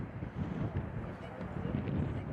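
Wind gusts across an outdoor sports field in Howard County on a sunny, windy day, producing a steady, close, low rumbling buffet on the microphone throughout with no clear break.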